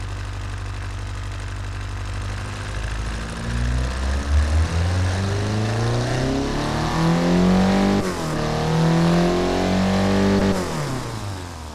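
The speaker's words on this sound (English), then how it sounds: "So let's really see how loud this engine is right here." A loud car engine built in Automation and driven in BeamNG.drive revs and climbs through the gears, its rising drone dipping with each shift and running alone without talk.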